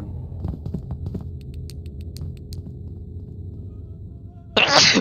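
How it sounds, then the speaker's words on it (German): A single short, sharp sneeze bursts out near the end, loud and close, over a steady low hum and throbbing drone from a horror video game. "Gesundheit."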